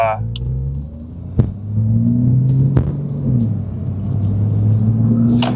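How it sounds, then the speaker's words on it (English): A 997.2 Porsche 911 with catback exhaust, high-flow cats and a muffler-free X-pipe drones and rumbles while driving, the engine note rising and falling through revs, with a few sharp pops, close and loud. "With the catback exhaust on this, you do get some good noise."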